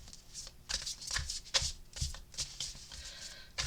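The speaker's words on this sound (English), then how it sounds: "Sometimes it's just me being fumbly with the shuffling." Tarot cards are shuffled by hand in quick, uneven bursts of riffling and slapping, close and fairly quiet, with short pauses between the fumbling passes.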